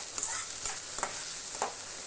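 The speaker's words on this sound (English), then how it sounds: "Now let's add onion to the oil and fry them" Onions fry in oil, giving a steady sizzle broken by a few short scraping stirs of a utensil in the pan, close and clear with no voices.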